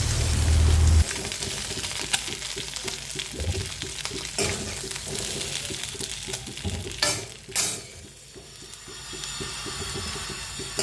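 Food fries in hot oil in a kadai, a steady sizzle broken by repeated stirring scrapes and a few sharp clatters, with no talking.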